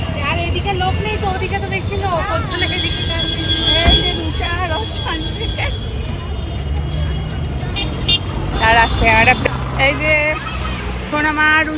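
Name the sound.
train passing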